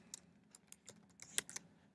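Faint keystrokes on a computer keyboard while text is typed into a cell in SMART Notebook 11: a handful of light, irregular clicks spread over two seconds against a quiet room.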